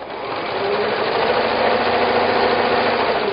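Sewing machine running steadily as it stitches a chain of fabric strips fed under the presser foot, a continuous close mechanical whir with no pauses and no talking.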